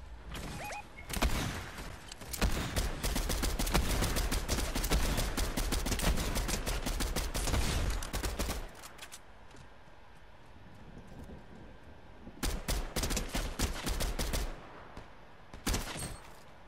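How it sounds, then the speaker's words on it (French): In Fortnite, heavy gunfire rattles almost without pause for several seconds, goes quiet, and then returns in a few shorter bursts. The dense cracks stay loud, with a low rumble beneath them. "Ouais mais je crois qu'il y a encore un mec qui tire"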